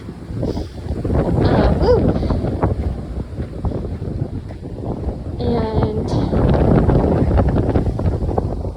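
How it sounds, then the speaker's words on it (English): Loud wind roars and buffets the microphone continuously, with a brief high whine and a short spoken word partway through. "although very windy"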